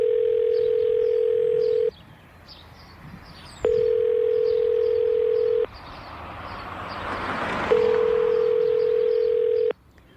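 Ringback tone on an unanswered Cincinnati 911 emergency call: a steady electronic tone of about two seconds, repeated three times with pauses between, over faint background hiss.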